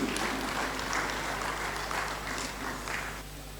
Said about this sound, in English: A round of applause for our Excellency, please.